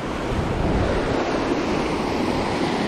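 Creek water at Meadow Run Creek in Ohiopyle State Park flows in a steady, dense rush that stays close and loud throughout, with no talking.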